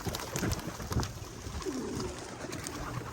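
Racing pigeons at an open loft during a Capistrano Classic race give faint, distant coos, one soft warbling call standing out briefly amid quiet outdoor background noise.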